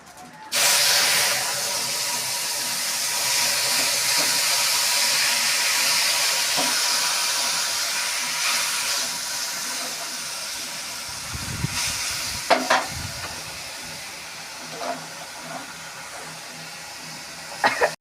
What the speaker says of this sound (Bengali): একটু নাড়াচাড়া করে এবার ডালটা আমি দিয়ে দেবো